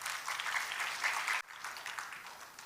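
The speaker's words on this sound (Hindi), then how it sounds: "इन सब के सम्मान में एक बार ताली बजाइए महाराज।" Audience at a Devi Bhagwat Katha religious discourse clapping in honour of the priests, a moderate burst of applause that dips sharply midway and then carries on a little more quietly.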